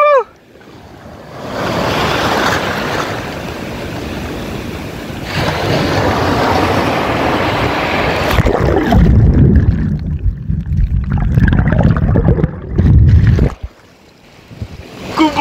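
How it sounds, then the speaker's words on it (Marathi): Sea waves wash onto Kolthare Beach near Dapoli in loud, rushing surges with wind buffeting close by, easing into softer, lower rumbles toward the end. "होपफुली तुम्हाला आवाज ऐकायला येत असेल बिकॉज लाटांचा आवाज भरपूर आहे"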